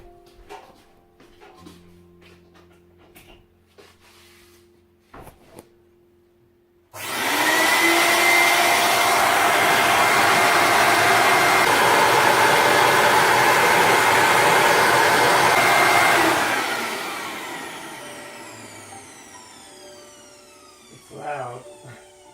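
An Aeromax 4000 HVLP paint sprayer turbine switches on abruptly and runs as a steady, loud whooshing drone for several seconds before winding down, with faint talk before and after.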